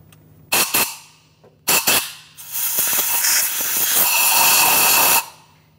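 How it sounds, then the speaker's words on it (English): Compressed air blown around a spark plug on a 2012-2015 Honda Civic engine: two short sharp hissing bursts, then a loud sustained close-up blast of air lasting a few seconds before cutting off. "I'm going to use some compressed air."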